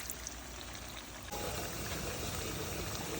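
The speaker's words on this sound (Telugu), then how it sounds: "ఇప్పుడు కొంచెం వాటర్ వేస్తున్నాను." Water poured into a pot of gongura mutton curry, a steady close rushing pour that grows fuller and louder midway and continues to the end.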